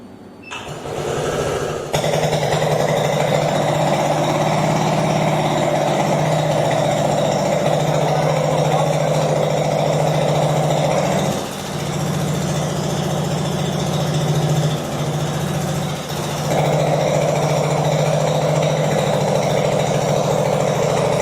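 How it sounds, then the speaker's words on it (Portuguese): A small gasoline engine runs with its muffler removed, a loud, steady, raw drone with strong low hum and buzzing overtones, briefly dipping in pitch twice before settling back to a constant unmuffled roar, no voices. "Vamos ligar o motor agora sem silencioso."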